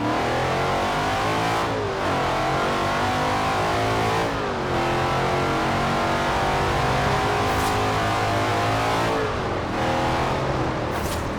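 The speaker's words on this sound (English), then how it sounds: "This looks like a nice bit of road to floor it on." Car engine in Forza Horizon 4 driven at full throttle, a loud, continuous roar that climbs in pitch through repeated gear changes, with rising revs broken by brief dips at each upshift.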